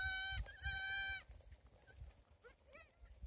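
Two loud, wavering goat bleats close by on a homestead, the first short and the second drawn out, followed by quieter background bird calls.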